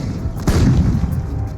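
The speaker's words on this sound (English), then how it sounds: "It begins with an artillery barrage by 700 Allied guns." A single deep boom from a large artillery barrage by Allied guns, one heavy thump with a rumbling tail, moderately distant.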